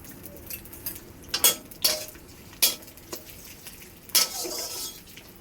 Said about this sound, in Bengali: পেঁয়াজটা ভাজা ভাজা লাল করে ভেজে নেব